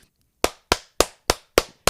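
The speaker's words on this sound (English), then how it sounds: "Major applause." Six sharp hand claps ring out close by at a steady, deliberate pace, each with a short decay.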